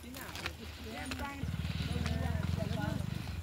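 A flock of sheep walking home from the fields in the evening, hooves pattering in a dense, steady rhythm that grows louder and nearer partway through, with someone talking over it and occasional bleats.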